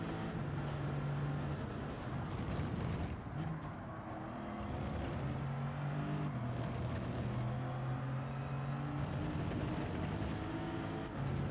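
Race cars lapping in Gran Turismo 7, a steady sustained engine drone with shifting pitch bands and gear changes, continuous and fairly loud with no talk over it.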